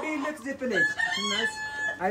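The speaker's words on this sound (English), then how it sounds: "I actually want one of these chickens" Chickens at Sholla Market in Addis Ababa, with a rooster crowing and clucking close by, busy market voices mixed in underneath.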